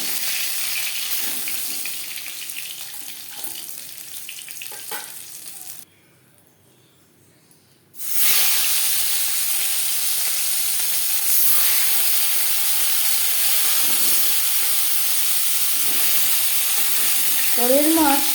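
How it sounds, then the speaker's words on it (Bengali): Tilapia pieces fry in hot oil in a wok with a bright, steady sizzle and spatter close by. The sizzle cuts out briefly midway, then returns at full strength and keeps crackling to the end. "পরের মাছ একইভাবে ভেজে নেব"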